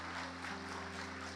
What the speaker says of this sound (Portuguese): Vamos aplaudir ao Senhor por esta arma poderosa